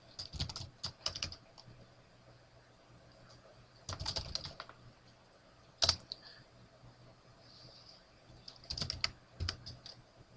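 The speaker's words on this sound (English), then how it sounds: "Oops, I typed all of that wrong" Several separate bursts of close keyboard typing, with quick clusters of keystrokes and quiet pauses between them over a faint steady hum.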